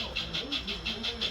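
Model trains running on a slim gauge layout, giving a steady rhythmic clicking with soft hissing pulses roughly every fifth of a second, fairly faint and close by.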